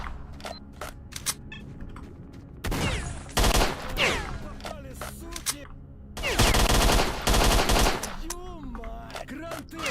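Bursts of automatic gunfire from a pistol-ammo weapon in STALKER: Shadow of Chernobyl, loud rapid volleys around three and six seconds plus scattered single shots, amid in-game ambient noise.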